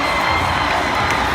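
A dense, loud basketball crowd roars and shouts without a break in the closing seconds of a high-school boys' varsity championship game between Wilson and St. John's, with many young voices cheering together close by.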